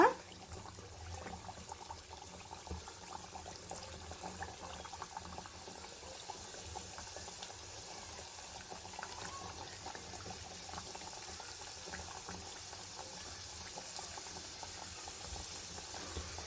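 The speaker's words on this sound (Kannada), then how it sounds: "ಎಣ್ಣೆ ಬಿಸಿ ಬಿಸಿಯಾಗಿದೆ ಈಗ ನಾವು ಒಂದೊಂದೇ ಪೀಸನ್ನು ತೆಗೆದು ಇದರೊಳಗಡೆ ಹಾಕೊಳ್ಳೋಣ" Snack pieces made from flour dough fry in hot oil on a stove at low-to-medium flame, giving a faint, steady bubbling hiss that continues evenly throughout, with no talking.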